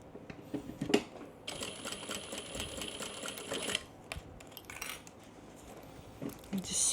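Sewing machine stitching a tote bag with a recessed zipper, a steady mechanical whir running for a couple of seconds amid fabric handling and clicks, close and fairly quiet.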